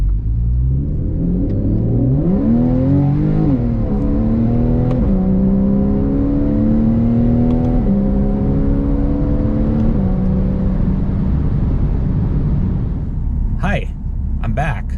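A Porsche 911 of the 991 generation with a PDK dual-clutch gearbox accelerates hard, its engine note climbing and dropping sharply through several quick upshifts, loud and close throughout.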